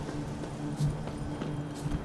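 Horse hooves clip-clop at a steady walking pace in the video game Witcher 3, faint and soft against a low background hum.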